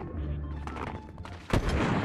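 Sniper rifle shot in a Fortnite match, a sharp single crack standing out partway through amid continuous game noise and rumble.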